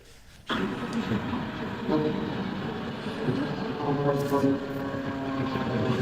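A ram air turbine deployed beneath a Japan Air Boeing 787 during an emergency landing, giving a steady, droning propeller-like whir that starts abruptly and holds loud and continuous, with engine and airflow noise behind it.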